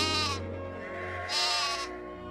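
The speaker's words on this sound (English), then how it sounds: "All day long he would follow his flock of sheep." A sheep bleats twice in quick succession, each a loud, wavering nasal cry close by with a low hum underneath.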